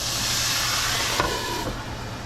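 Water poured into a hot skillet with browning pork chops hisses and sizzles into steam, a steady broad hiss with a brief clank partway through.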